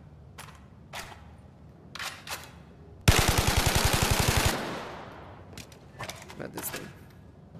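A rapid burst of automatic gunfire in the VR shooter Zero Caliber: one loud, tightly spaced string of shots lasting about a second and a half, with a brief decaying tail. Someone talks before and after the burst.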